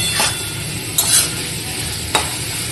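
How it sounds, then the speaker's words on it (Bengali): Vegetable stalks frying in a pan give a steady, close sizzle and crackle throughout, with two brief clinks of a utensil against the pan partway through. "আর এদিকে ডাঁটাটা ভাজছি"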